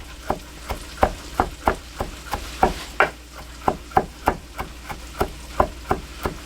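Fresh sage being chopped with a knife on a cutting board, a steady rhythm of crisp, close knocks, about two or three per second.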